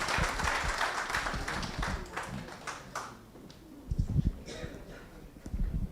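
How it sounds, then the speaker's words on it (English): Audience applause at a talk on engagement, a faint spread of claps fading midway and picking up again, heard from a distance with speech mixed in. "A big round of applause."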